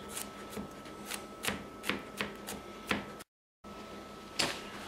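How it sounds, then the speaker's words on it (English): A freshly sharpened knife chops smashed, peeled garlic cloves finely on a board, a series of crisp, irregular taps close by, pausing briefly before another cut. "Then chop them up really fine."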